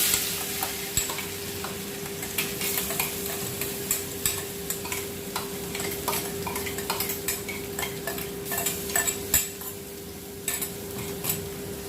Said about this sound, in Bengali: এখন আমি আদা, রসুন, কাঁচা লঙ্কা পেস্টটা প্রথমে দিয়ে দেব।